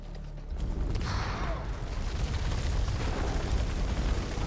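A grenade in the video game House of Ashes bursts with a deep, heavy boom that rolls into a long rumbling, debris-laden roar, loud and sustained with no speech over it.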